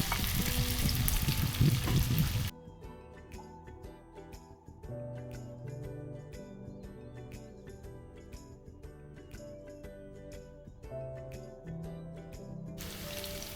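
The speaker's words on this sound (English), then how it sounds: "we're gonna add the cauliflower in this and fry this, make it a little brown" Cauliflower frying in hot oil, a faint continuous sizzle and crackle with intermittent clinks of stirring, louder bubbling at the start and end.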